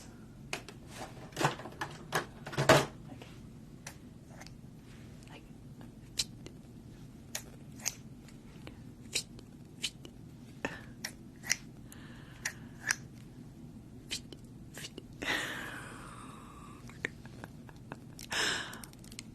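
A voice imitates scissors snipping with mouth sounds, a long run of small clicks and snips, scattered and irregular, close and quiet, with a couple of breathy hisses.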